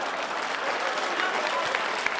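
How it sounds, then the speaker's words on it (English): Debate audience members break into dense, sustained clapping that fills the room evenly, loud and continuous with no talk over it. "And they're all clapping."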